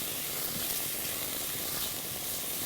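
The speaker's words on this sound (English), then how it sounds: "We're going to add the oregano. We're just going to stir that a little bit." Garlic and oregano sizzling in a pan while being stirred, a soft, steady hiss of frying that stays faint and even throughout.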